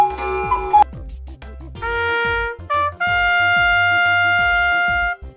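A bright trumpet plays a short fanfare-style phrase of several sustained, ringing notes in the style of old cinema intro music, over a steady ticking rhythm underneath, with no voices.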